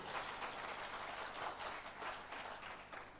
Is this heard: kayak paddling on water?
no